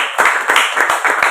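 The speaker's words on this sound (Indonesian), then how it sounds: "Tepuk tangan yang kencang dong." A church congregation at a New Year service claps hands together, a loud ragged burst of clapping in uneven rhythmic bunches, close and filling the room.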